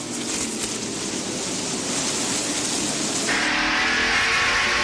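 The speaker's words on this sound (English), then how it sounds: "Alan Kulwicki and Brett Bodine involved in a bit of a battle" NASCAR stock cars roar around the short oval at Martinsville during a race, a continuous, loud engine drone that swells as the cars pass close.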